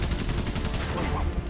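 Gunfire rattles through a rapid series of sharp shots in the Valiant Hearts video game. The bursts are dense and fairly loud, and a faint voice can be heard underneath.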